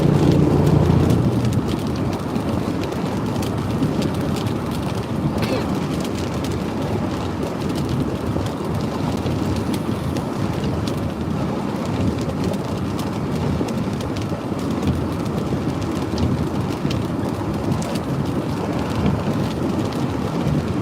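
Steady heavy rain during a thunderstorm at Knife River, with a low continuous rumble of thunder from nearby lightning filling the whole stretch at an even, loud level, no voices.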